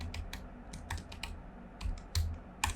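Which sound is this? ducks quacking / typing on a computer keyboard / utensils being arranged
typing on a computer keyboard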